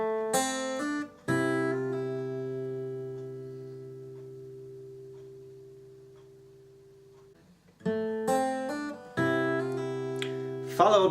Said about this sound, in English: With a pickup it sounds like this.